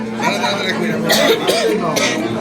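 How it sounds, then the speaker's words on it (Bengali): A person coughs a few times at a family wedding reception, close and fairly loud, amid ongoing chatter and voices. "আমার কাশি উঠে"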